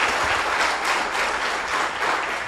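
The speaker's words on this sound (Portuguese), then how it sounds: "dê um aplauso de recebedor" A church congregation applauds in a continuous, dense wash of clapping hands, loud and sustained throughout with gentle swells and no voices rising above it.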